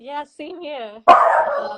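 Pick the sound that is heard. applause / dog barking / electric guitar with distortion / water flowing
dog barking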